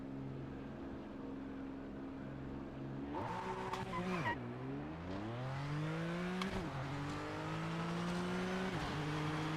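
Race car engine in the Project Motor Racing video game, a steady low drone that revs up sharply in repeated rising and falling sweeps, with tyre squeal mixed in, loud and close with no talking.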